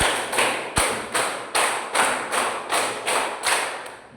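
Students in a classroom clap in unison through a longer run of about ten evenly spaced, sharp claps, a five-count pattern done twice, close and clear with no speech.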